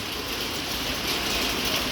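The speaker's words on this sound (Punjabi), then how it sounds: "2 ਵਜੇ ਤੋਂ ਬਾਰਿਸ਼ ਹੋ ਰਹੀ ਹੈ" Steady rain falls without pause for the whole stretch, a dense, even hiss with no talk over it.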